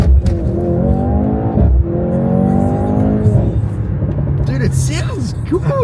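Engine of a Mercedes car accelerating hard off the line, a loud rising roar with tire noise, while people talk and exclaim over it.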